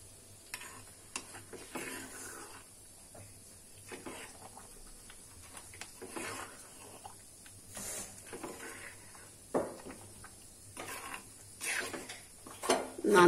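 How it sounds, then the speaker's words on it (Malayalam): Sambar rice is stirred in a pot and covered, heard as intermittent scraping, soft metallic clinks and taps of a spoon against the vessel, close and fairly quiet, ending with a louder clatter. "നമുക്ക് ഇതിട്ട് അങ്ങ് ഇളക്കി അടച്ചു വെച്ചാൽ മതി."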